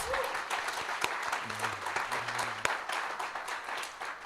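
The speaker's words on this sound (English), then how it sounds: "let's give our speakers another round of applause" Audience at a governance dialogue event gives the speakers another round of applause, a steady mass of clapping hands with a few sharper individual claps, while a low voice murmurs briefly underneath midway.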